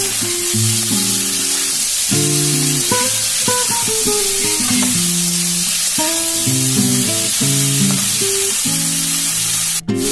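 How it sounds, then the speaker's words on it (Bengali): Grated ginger, garlic and onion hit hot oil in a frying pan for a fish curry with tomato, giving a steady loud sizzle while a voice talks over it throughout. "আদা, রসুন আর পেঁয়াজ গ্রেট করা দেওয়া হচ্ছে এর মধ্যে।"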